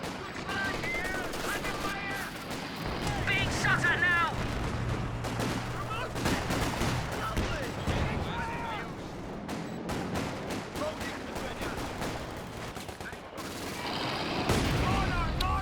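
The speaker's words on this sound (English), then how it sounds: "Whose mortar was that? Oh, it's a mortar half-track of VonIvan." Mortar half-track shelling in Company of Heroes 2, dense repeated explosions and gunfire booming throughout amid ongoing battle noise, with a commentator talking over it.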